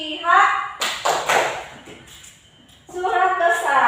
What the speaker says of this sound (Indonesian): Yuk kita bareng-bareng tepuk Al-Fatihah.